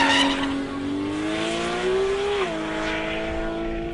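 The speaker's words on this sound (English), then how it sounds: "Peter Wolf, returned this year with his new R32 GTR, nicknamed Fred" A Nissan R32 GT-R drag car with roughly 1,000 horsepower and rear-wheel drive makes a run at the Cootamundra GT-R Challenge, its engine droning loud and steady with a rising pitch that drops briefly as it shifts, over constant roar and tyre noise.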